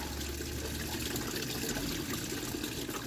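Coolant drains from a Jaguar XJS V12 engine in a continuous, soft trickling gush, fairly faint and steady throughout with no talk.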